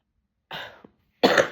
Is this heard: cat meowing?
no